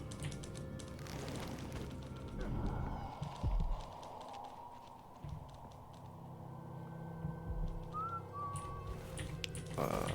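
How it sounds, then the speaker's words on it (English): In the video game Dishonored 2, a character's faint melodic whistle drifts in amid footsteps and ambient game noise, with brief whistled notes most distinct toward the end. "I hope there's nobody around, because I hear whistling."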